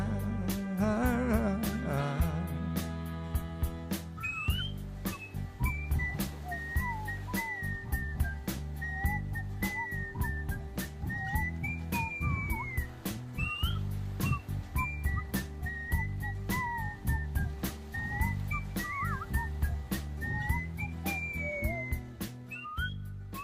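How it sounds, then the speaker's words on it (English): A whistled melody of a soul song, clear and steady across the whole stretch, riding above a full backing recording with bass, drums and a firm rhythm. "there's a whistle already on that recording"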